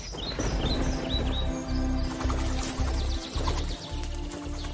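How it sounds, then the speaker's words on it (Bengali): Migratory birds chirp and tweet in quick repeated calls over a dense background wash that resembles pouring water, with no speech. "জিজি, ওই দেখো পরিযায়ী পাখিগুলো উড়ে যাচ্ছে।"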